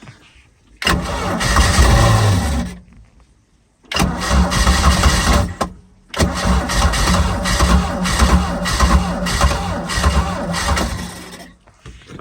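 An old engine on a Rinker V170 boat is cranked and started in several tries, with loud rough bursts of engine noise broken by short pauses, then a longer sustained run close by.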